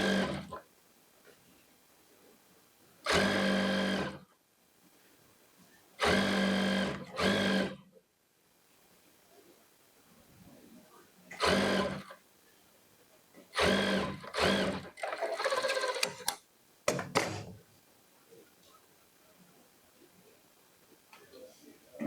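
A sewing machine stitches along the folded edge of a kurti lining in several short bursts of a few seconds each, with quiet gaps and some talking in between.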